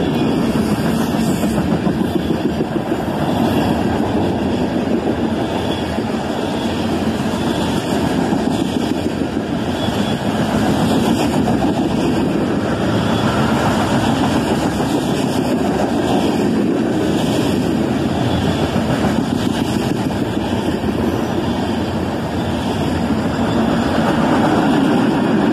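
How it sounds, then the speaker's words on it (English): A loaded coal freight train with covered hoppers and tank cars mixed in rolls past close by, giving a loud, steady rumble with rhythmic clatter that holds for the whole stretch, with no talking. "Lots of covered hoppers and tank cars mixed in on this one."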